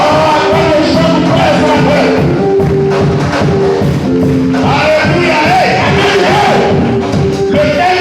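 A church congregation cheers and acclaims after a hymn, a loud, dense wash of voices with shouts and ululating cries sustained throughout, singing-like tones mixed in.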